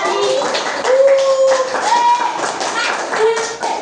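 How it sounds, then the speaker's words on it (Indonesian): Schoolchildren in a classroom clap for a classmate during a public-speaking lesson on bullying, uneven bursts of small hands clapping nearby mixed with children's voices and excited chatter. "Feli, tepuk tangan."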